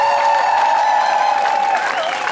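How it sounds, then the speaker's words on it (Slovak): Concert audience applauding tenor Miroslav Dvorský at the Lehár summer festival, a steady wash of clapping throughout while a sustained sung or held tonal sound rings over it. "Dámy a páni, ešte jeden veľký aplauz."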